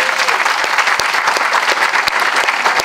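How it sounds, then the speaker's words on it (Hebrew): An audience at a talk about urban food forests breaks into loud, sustained applause, with dense clapping filling the room throughout. "עכשיו מותר שיהיו מחיאות כפיים"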